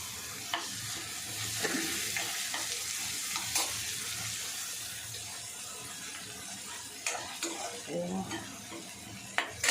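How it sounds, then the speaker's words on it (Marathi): Chopped onions for egg bhurji sizzle in a hot pan while a spoon stirs and scrapes them in uneven strokes, with occasional sharper metal knocks against the pan and a continuous frying hiss throughout. "कांदे चांगले फ्राय करून घ्यायचे"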